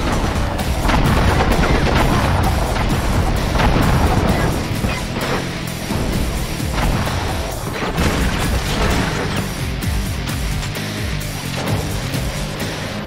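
Shotgun blasts in the video game Enter the Matrix, a run of loud booming shots with chaotic crashes amid dense action sounds and music, steady and close throughout.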